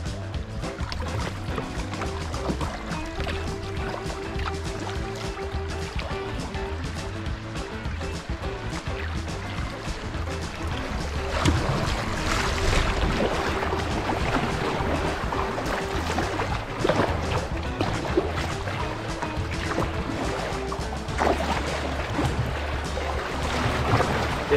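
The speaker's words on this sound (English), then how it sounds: "It's just rapids, it just narrows up. The current gets super fast." A kayak runs Bull Rapids on the Maumee River, a steady close rush of fast current and splashing water that swells louder midway, with no voices.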